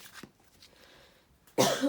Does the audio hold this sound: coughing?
yes